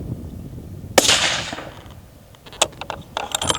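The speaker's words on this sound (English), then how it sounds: "All right, we'll shoot 54 and a half." A single sharp rifle shot from a .280 Ackley Improved during load testing, a loud crack with a ringing decay, followed by faint mechanical clicks and clatter from the rifle.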